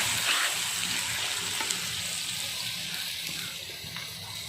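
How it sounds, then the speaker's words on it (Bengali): Spices frying with chopped tomato in a pan, giving a steady, even hiss of sizzling with a few faint clicks and no clear stirring strokes. "এবার মশলাগুলো আমি ভালো করে ভেজে নিচ্ছি"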